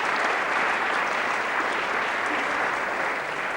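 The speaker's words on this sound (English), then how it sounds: "we must applaud him." Steady, even applause fills the room for a cellist at a Debussy masterclass, a dense wash of clapping from a seated audience held at constant loudness throughout.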